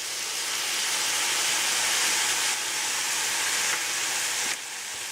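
Soy sauce hitting a hot cast iron pan of mushroom fried rice sends up a loud, steady sizzle that holds strong for several seconds, then drops slightly quieter near the end.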